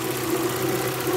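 A 2002 Volkswagen Parati's engine idles steadily nearby, a continuous low mechanical hum with no voices.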